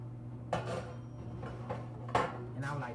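Metal pans clink and knock together a few times, close by, over a low hum and quiet speech.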